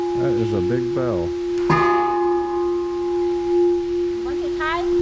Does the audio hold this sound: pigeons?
no